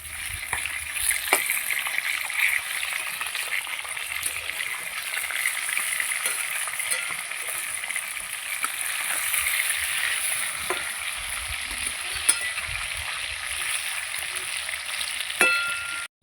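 Fish fry in a pan of oil with a constant close sizzle and spitting crackle, broken by a few sharp pops and clinks.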